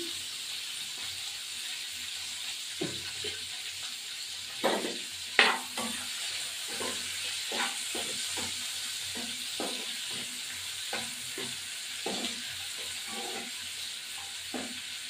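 Fish frying in oil in a pan, a steady soft sizzle running throughout with intermittent louder clicks and clatters of stirring or utensils, fairly close and without talk.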